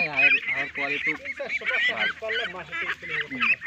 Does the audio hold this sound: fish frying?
no